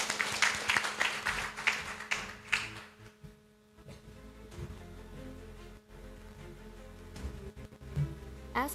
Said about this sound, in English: Please give it a big applause.